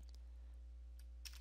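A few faint, quiet keystrokes on a computer keyboard while typing a copy command at a Windows command prompt, scattered over a low steady hum with no talking.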